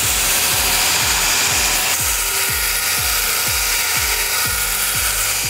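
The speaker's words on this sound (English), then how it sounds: "You're grinding out your shape so that it's a smooth little blade" At a metal forge a steel knife blade is ground to shape, a loud continuous abrasive grinding roar with a rhythmic pulsing beat as the blade is worked against the grinder.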